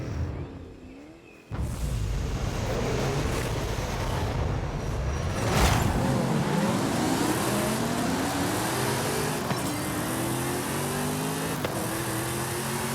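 The rear-wheel-drive Exorcist car in the video game Forza Horizon 5, with the engine revving hard off the line and accelerating through rising gear sweeps. It is loud and sustained.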